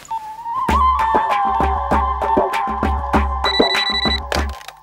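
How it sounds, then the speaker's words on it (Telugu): A telephone in an office rings loudly and close in a bright, pulsing electronic melody that repeats in quick bursts throughout. "వందనా, నెక్స్ట్ కాల్ రిసీవ్ చేసుకో."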